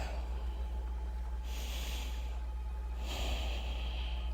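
Two deep breaths close to the microphone, a slow airy inhale then a second one a second and a half later, soft over a quiet low hum.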